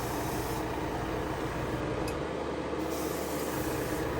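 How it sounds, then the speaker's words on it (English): A steady, hissing water spray runs continuously at close range inside a paint booth, broad and even, with a low hum beneath it and no voices. "and then I spray my entire booth with water."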